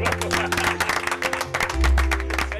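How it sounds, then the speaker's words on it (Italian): Studio audience applauding on an Italian Sunday TV show as a band starts a song, dense steady clapping with crowd noise and a low musical tone swelling near the end. "gli ospiti fanno l'applauso"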